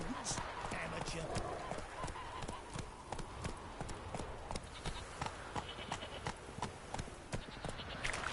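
Roach, the horse in The Witcher 3: Hearts of Stone, gallops with rapid rhythmic hoofbeats throughout, close and steady, while voices talk over the running.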